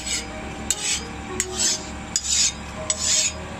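A metal file scrapes across a hardened knife blade during a hardness test, making rough rasping strokes in a steady back-and-forth rhythm, about five passes with sharp clicks between them, close and clear with no talk.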